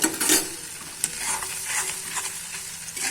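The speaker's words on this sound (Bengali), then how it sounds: "খুব ভালো করে মিশিয়ে নেব।" A cashew and yogurt mixture is stirred into a cooking pan with the flame off, producing close scraping, soft wet sizzle and a sharp utensil clink, with no voices.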